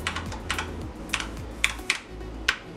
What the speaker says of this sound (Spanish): Acá estamos viendo que el teclado está enchufado